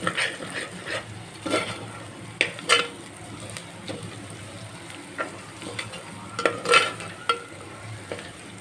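Ginger garlic paste with turmeric sizzles in a pan while a spoon stirs it, scraping and clinking against the metal in irregular bursts over a steady frying hiss, close and fairly quiet.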